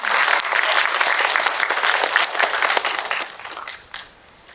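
An audience at a stage talk event applauds steadily, a dense wash of clapping that holds, then thins out and fades toward the end.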